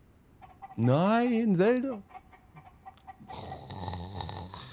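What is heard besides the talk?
chickens clucking in the video game Zelda: Tears of the Kingdom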